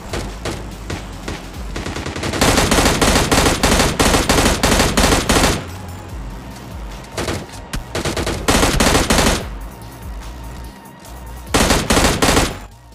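Rapid automatic gunfire in the mobile battle game PUBG Mobile Lite comes in loud sustained bursts, separated by short quieter gaps, with a final burst near the end.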